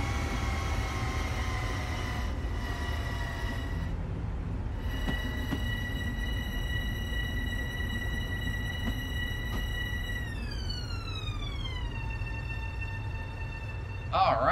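A commuter train in the Train Simulator video game runs on the Croton-Harmon to Grand Central line, a steady rumble with whining electric motor tones that glide downward as it slows.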